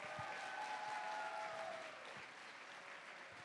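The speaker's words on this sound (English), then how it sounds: "Let's give the judges another round of applause for helping us out this weekend" Audience applause at a FIRST robotics district competition in a large venue, a steady wash of many hands clapping for the judges that stays dense throughout and eases slightly in volume toward the end.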